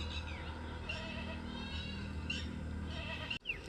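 Goats bleat several times in a rural village setting, their wavering cries rising over a low background hum; one sharp bleat stands out near the end.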